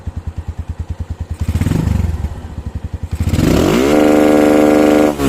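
Motorcycle engine fitted with a programmable CDI rev limiter: loud, rapid single-cylinder pulses rev up, stutter and hold against the limiter, then climb to a sustained high-RPM wail close to the mic.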